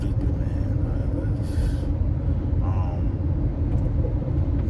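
Road traffic heard from inside or near a vehicle: a steady low engine rumble with passing vehicle noise and brief hissing bursts like air brakes, continuous throughout.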